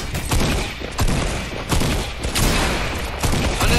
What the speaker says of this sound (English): I'm just getting shotgun spammed